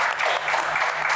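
Audience applause at a community hub launch event, steady dense clapping filling the whole moment at close range, with no voices rising above it.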